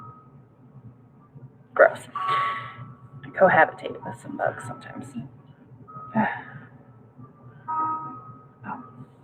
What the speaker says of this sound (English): that alarm's going off to tell me to take my kids to school